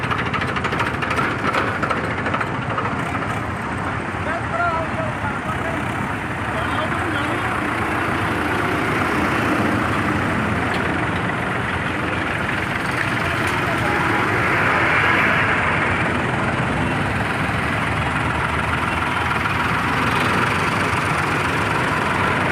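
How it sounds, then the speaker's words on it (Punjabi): Heavy engines idle and rumble together in a steady low drone as a long line of tractors moves slowly in a farmers' protest march in Raiya, Punjab, with a faint murmur of voices in the background. "ਜੋ ਕਿ ਟਰੈਕਟਰ ਮਾਰਚ ਕੱਢਿਆ ਜਾ ਰਿਹਾ"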